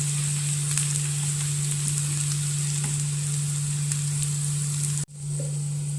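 Rose petal curry sizzles loudly and continuously in a hot pan while being stirred, with a steady frying hiss, scraping stir sounds and a sudden brief cut near the end.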